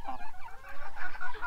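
Several chickens cluck and squawk on a farm, a busy, close chatter of overlapping calls that runs on without pause.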